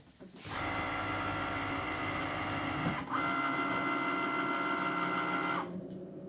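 A Cricut Maker cutting machine fitted with a scoring wheel whirs and buzzes steadily for several seconds. Its motor tone shifts midway, then the machine stops near the end.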